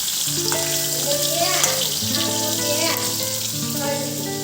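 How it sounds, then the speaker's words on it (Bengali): Food fries in a hot pan in a home kitchen with a continuous crackling sizzle, heard under a voice that talks throughout. "ভাজা করে দিচ্ছি"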